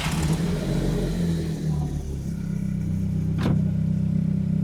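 A Volkswagen Golf MKV GTI with a DSG gearbox idles close by with a low steady engine rumble, then gives a short sharp rev near the end before settling back to idle.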